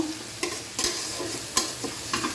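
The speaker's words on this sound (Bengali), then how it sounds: "দারচিনি এলাচ এগুলোকে তেলে একটু সুন্দর করে ভেজে নেব" Ginger-garlic paste, onion paste, cinnamon and cardamom sizzle in hot oil, a steady close crackle broken by several sharp stirring scrapes against the pan, with no talking.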